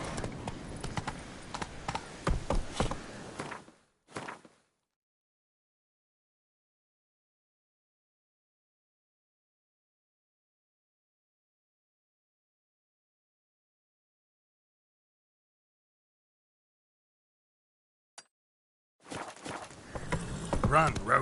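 Roach the horse gallops in a video game, rapid hoofbeats mixed with a voice at the start, then long silence before hoofbeats and sound return near the end.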